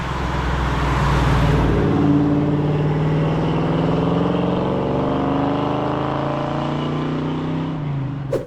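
A 1969 Mustang Mach 1 with a 428 Cobra Jet V8 and four-speed manual cruises down a road, its engine a steady, loud rumble mixed with wind and road noise, heard from inside or close by.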